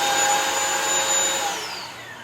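Bissell Crosswave floor cleaner motor running with a steady, loud whine and airy rush, holding even before easing slightly toward the end; no talking.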